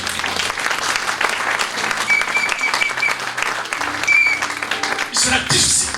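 A church congregation claps and cheers to acclaim the Lord during a French-language service, steady applause filling the room under a voice.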